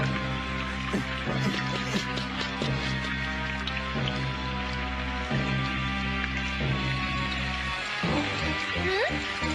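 Steady rain falls throughout as a continuous dense hiss in an animated scene, with layered music and effects over it.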